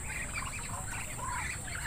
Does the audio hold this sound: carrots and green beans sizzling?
no